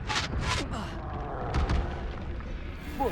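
In Hogwarts Legacy, the Confringo spell goes off in several booming blasts, two sharp bursts close together at the start and another heavy thump midway, with shouting and battle noise in between.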